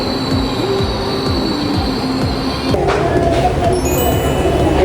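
An LRT light rail train in Manila rolls along with loud rumbling, rhythmic wheel clatter and high squealing tones, heard up close from onboard, with faint background voices.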